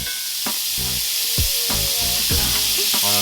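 Butter sizzles loudly in a pan holding rendered beef grease left from frying hamburger steak, a bright close hiss broken by several crackling spits and stirring clatters.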